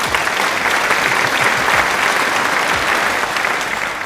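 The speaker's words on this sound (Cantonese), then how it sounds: "俾掌聲佢" Studio applause during a Cantonese watch show after a Tissot watch is presented, a dense steady burst of clapping from several people, loud and close, without speech.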